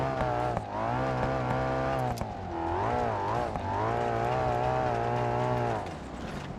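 A twin-turbo Bolide race car in BeamNG.drive revs on a dirt rally course, its engine droning steadily in a harmonic roar that swells and dips with the throttle. It sounds close and sustained, then fades toward the end.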